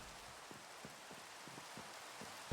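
Rain in Minecraft makes a soft, steady hiss with faint scattered drops, ending in a short louder burst.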